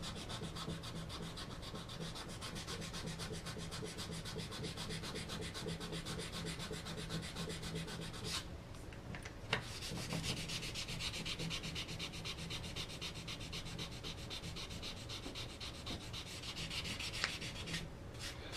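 Fine 220-grit sandpaper rubs lightly over a wooden gun stock in a steady, close, rhythmic scratching hiss that carries on without pause for the whole stretch, with a couple of faint knocks and no talking.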